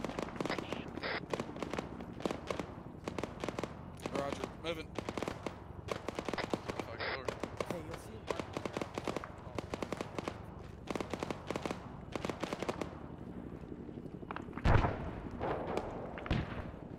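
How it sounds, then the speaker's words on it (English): Rapid bursts of auto cannon fire, a Bushmaster in the ARMA 3 video game during a Fallujah mission, thump out in long steady runs from the distance, with a louder blast near the end and faint voices underneath. "Got an audible auto cannon to the west. This sounds like a Bushmaster."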